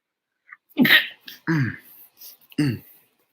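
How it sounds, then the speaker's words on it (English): Several short, sharp nasal bursts in a row, like stifled sneezes, each quick and close with brief pauses between them. "you grab your nose when you're sneezing so nothing comes out"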